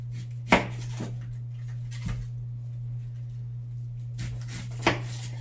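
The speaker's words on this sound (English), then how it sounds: "We will start by chopping off each end." A handful of sharp knife taps on a cutting board as the ends are chopped off a yellow onion, spaced irregularly, over a steady low electrical hum.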